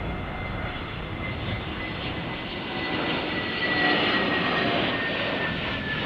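An airliner lands on runway 09L at Heathrow, a steady loud engine roar and broad rumble holding throughout and swelling slightly toward the middle, with no voices.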